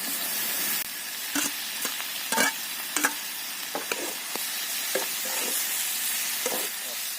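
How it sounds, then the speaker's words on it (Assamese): Chopped tomatoes, four of them, hit frying pork in a pan with a steady loud sizzle, broken by several sharp clicks and scrapes of stirring throughout. "এতিয়া মই কাটি থোৱা বিলাহী 4টা দি দিম।"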